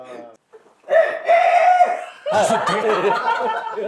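A man imitates a rooster's crow with a long drawn-out call, then breaks into wavering, laughing vocal sounds, close and loud.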